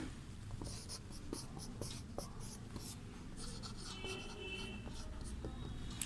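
Writing on a board during a Class VII Sanskrit lesson, a quiet sequence of short scratchy strokes and taps in an uneven rhythm, faint and close with room hiss between marks.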